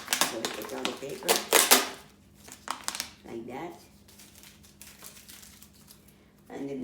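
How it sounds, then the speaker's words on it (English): Paper being pulled out of a plastic bottle for a DIY self-watering seed starter, heard as bursts of crinkling and rustling in the first couple of seconds, then quieter scraping, with a person talking over it. "we're gonna take out the paper from the bottle"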